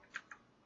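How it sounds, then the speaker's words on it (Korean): Two quick, light key clicks on a computer keyboard, spaced about a sixth of a second apart, while someone works in Clip Studio animation software. The clicks are faint and close, with no talking. "어, 이거 ESC 누른 거예요."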